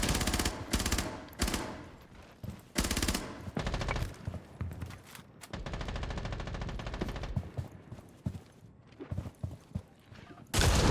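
A P90 submachine gun firing in a first-person shooter game, long rapid bursts of automatic fire with short gaps between sprays, loud and close, and a voice talks faintly over parts of it.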